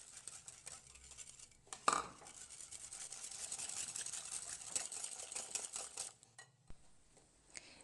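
A whisk scrapes and clinks against a bowl as vegetable oil is drizzled into batter for a Moroccan basbousa cake, a continuous soft rhythmic mixing sound with one louder knock near the start, quiet and close.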